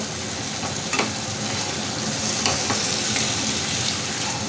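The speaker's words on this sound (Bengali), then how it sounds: "চিকেনটাকে আমি মশলার সঙ্গে ভালো করে কষিয়ে নেব।" Marinated chicken sautéing with spices in a pan, a steady dense sizzle filling the whole stretch, with a few faint scrapes of stirring breaking through now and then.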